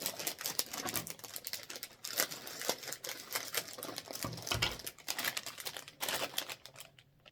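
Scissors snipping and plastic packaging of Easter eggs being cut open and crinkled, a run of close, sharp clicks and rustles with brief pauses, ending in a quieter stretch.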